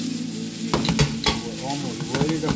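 Onions and jalapenos sizzle and fry in a pan, with close stirring and scraping knocks breaking through a steady sizzle throughout.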